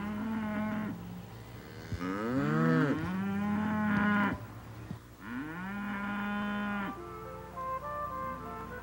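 Dairy cows on a working dairy farm moo repeatedly, several long, loud bellowing calls close by with brief pauses between, and no talk over them.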